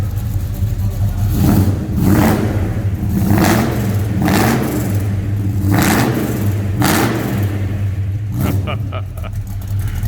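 A 1971 Ford XY GS Falcon's engine revs repeatedly, rising and falling in several strong bursts over a steady idle rumble, loud and close.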